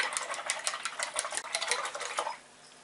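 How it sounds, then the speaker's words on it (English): A paintbrush used for acrylic paint is swished and tapped in water, a quick run of small clinking, splashy strokes close by that stops abruptly, leaving quiet. "Now you can wash your brush"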